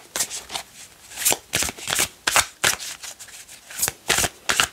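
Tarot cards are shuffled by hand in a steady sequence of crisp riffling bursts, about a dozen close, bright shuffles with short pauses between them and no talking.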